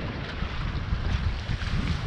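A sailboat beating upwind off the Mediterranean coast near Le Lavandou, rounding a cape: steady broadband wind and water rush across the hull, with gusty buffeting on the microphone and no voices.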